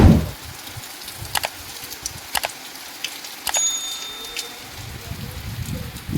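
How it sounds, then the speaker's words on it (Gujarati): Rain falls steadily in a town during a downpour, a soft hiss broken by scattered sharp drips and taps, with a brief low thump at the start and end. "તમે જોઈ શકો છો કે વરસાદનો માહોલ છે. વરસાદ બહુ બધો પડી ગયો છે વડાલીમાં"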